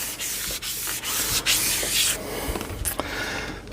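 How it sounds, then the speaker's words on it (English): A fine 3000 grit pad sands the frets of a semi-hollow jazz guitar in quick back-and-forth rubbing strokes, a close, hissy scrubbing rhythm with brief pauses between passes. "as far as sanding down these frets and buffing them up, well, I'm done"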